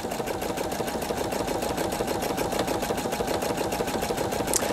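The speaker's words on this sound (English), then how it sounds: "Just hit the start button again and it'll do that exact buttonhole stitch again." A Pfaff Creative 3.0 sewing machine runs a buttonhole stitch, a fast, steady mechanical whirr with rapid even needle clatter, loud and close throughout with no talk.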